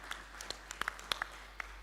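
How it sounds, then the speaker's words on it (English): An audience at an occupational safety and health conference gives a faint round of applause, heard as sparse, scattered claps at a distance over a low hum. "I think we can give them a round of applause."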